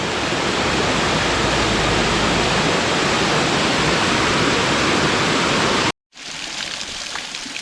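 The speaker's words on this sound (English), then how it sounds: "here's the other end of that Sunbeam Creek" Sunbeam Creek at Mount Rainier rushes loudly and steadily beside a road, a dense unbroken roar of churning water that cuts out briefly near the end, then returns fainter.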